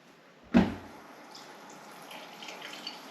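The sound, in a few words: water running from a tap onto a waterproof glove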